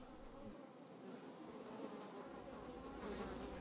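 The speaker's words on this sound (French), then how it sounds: "Les mouches bourdonnaient déjà" Flies buzzing in a steady, continuous drone that fills the whole stretch, fairly close and even in loudness, with no voices.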